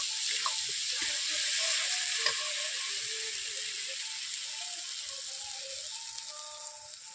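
Mustard masala paste with cumin paste fries in a pan for a Bengali rui fish curry, a constant loud hiss with scattered crackles and light scraping, close and steady without speech.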